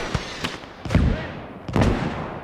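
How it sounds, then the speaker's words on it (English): Artillery fire in a WWII shooter battle: several heavy booming blasts, two quick ones then two bigger rolling detonations spaced about a second apart, each trailing off into rumble. "listen to that artillery"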